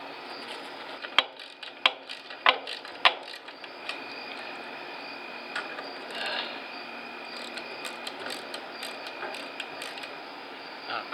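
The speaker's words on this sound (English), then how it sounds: "we're going to go ahead and put those bolts back in" Bolts being threaded back in and tightened on a car trailer, a few sharp metallic ratchet clicks near the start followed by quieter mechanical fiddling over steady background hum.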